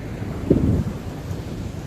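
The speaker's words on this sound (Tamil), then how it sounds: "அந்த கடல் அலையோட சத்தமும் மக்கள் கூட்டமும் நிறைய இருக்கிறதே தெரியும்" Surf rolling onto Colachel beach with wind buffeting the microphone, one louder wave surge near the middle over a steady low rumble; no distinct crowd voices come through.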